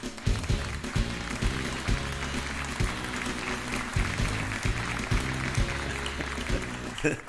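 Steady studio-audience applause on a political talk radio show, a dense, even patter running the full length beneath a rhythmic, thumping music bed.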